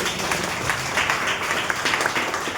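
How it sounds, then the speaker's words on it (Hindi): A congregation applauds in a Hindi church service, a steady wash of many hands clapping together at moderate volume with no break. "ताली बजा सकते हैं इस बात के लिए"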